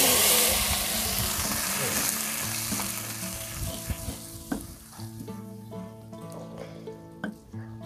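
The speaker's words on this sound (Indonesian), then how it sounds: "Nah ini minyaknya sudah meleduk ya, berarti ini sudah panas banget." Hot oil pops and sizzles loudly as crackers fry for seblak, a dense crackling roar at first that thins into scattered bursts and pops, close and without speech.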